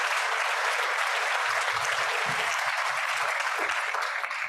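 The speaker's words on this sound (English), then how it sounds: "please give a round of applause to welcome Coach Kurt Sarlos" A Rotary Club audience gives a dense, steady round of applause to welcome a coach, loud and continuous throughout with no voices over it.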